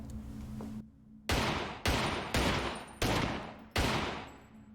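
Five loud gunshots in a video game, each a sharp sudden blast with a decaying tail, spaced roughly half a second to a second apart after a brief quiet gap, no talking.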